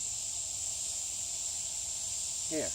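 Crickets in the woods keep up a continuous high, steady trill that holds evenly throughout, with a faint brief sound near the end.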